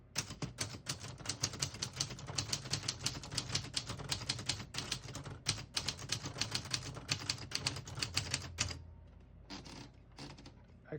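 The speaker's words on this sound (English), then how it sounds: "I'll type a sentence in red on the next line" Rapid mechanical clacking of keys on a 1977 Royal Sahara portable typewriter striking in quick bursts, close and loud, ending with a few slower taps after a short pause.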